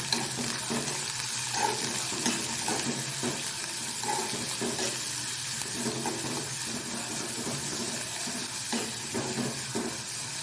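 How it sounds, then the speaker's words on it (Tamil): Onions and green chillies sauté in hot oil in a pan, a steady hiss and crackle with soft stirring scrapes, close and continuous with no talk. "இப்போது இதை நல்லா வதக்கி விடுறேன்"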